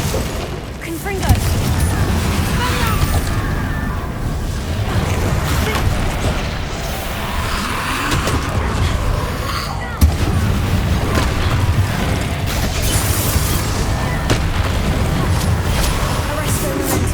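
Fire and explosion spells cast in a Hogwarts Legacy battle, with dense booming blasts and crackling impacts rolling continuously over a loud mechanical, combat-filled backdrop and a sharp hit near the midpoint.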